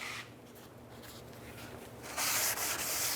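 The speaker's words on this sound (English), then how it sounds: "Wipe it down with a rag." A rag wipes down a cleaned brake rotor from a Nissan Xterra, making soft rubbing and scuffing sounds up close that turn louder and brighter toward the end, with no talking.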